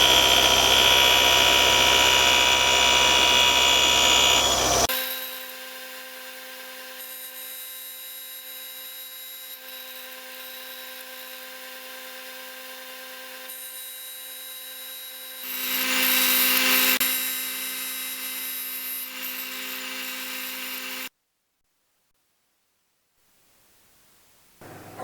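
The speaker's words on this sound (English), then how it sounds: "grind it down on the tool grinder instead" Tool grinder working a steel part for a floating reamer holder, a loud steady grinding whine that drops to a quieter running hum, surges briefly again, then cuts off into silence.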